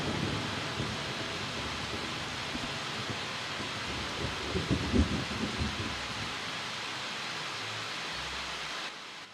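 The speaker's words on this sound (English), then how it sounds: "It's still raining." Steady rain with a low thunder rumble near the middle, falling in the Morrowind video game, a broad, even hiss that fills the whole stretch without voices.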